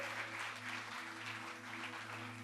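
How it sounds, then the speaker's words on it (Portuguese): A church congregation applauds in a steady, dense wash of clapping over a low sustained hum, continuous and even throughout. "Você pode aplaudir?"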